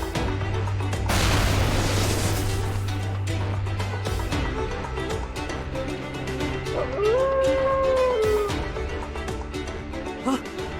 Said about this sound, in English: That howl.